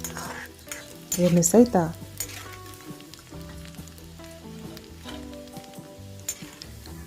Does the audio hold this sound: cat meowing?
no